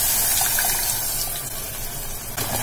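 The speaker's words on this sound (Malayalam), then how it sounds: "നമുക്ക് ഈ മിക്സിയുടെ ജാറങ്ങൾ കഴുകിയിട്ട് ഒഴിച്ചു കൊടുക്കാം." Water from freshly rinsed mixer-grinder jars is poured into a pot of South Indian rasam, a close, steady gushing pour lasting a few seconds.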